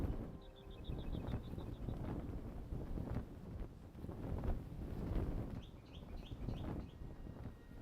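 Wind rushes steadily while gliding across terrain in the video game Enshrouded, a rough, gusty roar throughout, with brief chirping bird calls near the start and again near the end.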